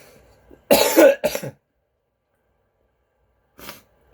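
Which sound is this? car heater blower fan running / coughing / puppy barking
coughing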